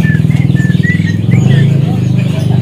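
Bright, whistled song phrases of a white-rumped shama ring out at a bird market over a steady low hum of nearby voices and background chatter.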